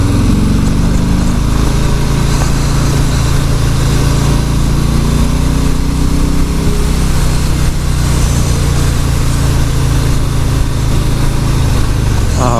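A 2018 Harley-Davidson Street Bob FXBB Softail motorcycle rumbles loudly and continuously while being ridden, its engine drone filling the whole stretch with wind noise and no talking.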